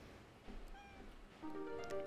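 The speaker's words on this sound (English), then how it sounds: "Lots of meowing along the way." A cat meows in the video game OneShot, faint drawn-out meows near the middle and a longer, clearer meow toward the end over quiet game background, with no speech.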